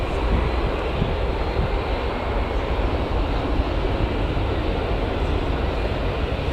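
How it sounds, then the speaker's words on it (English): A KLM airliner taxiing at Newcastle Airport produces a loud, constant jet engine whine and rumble that stays steady throughout, with no talk over it. "Got KLM taxiing out though."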